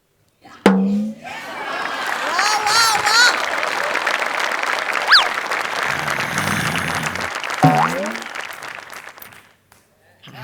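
Studio audience applause on a Marathi comedy show, a loud burst of clapping that swells quickly, holds for several seconds with whoops and voices mixed in, then fades, while a performer's exclamations cut through midway.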